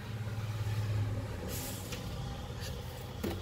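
A truck rumbles past at a distance, with a low engine drone and a brief hiss of air near the end.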